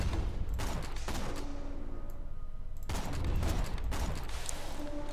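Rapid bursts of gunfire from a weapon in Borderlands 2 rattle loudly in dense volleys, two long automatic strings separated by a brief pause, with game background sound underneath.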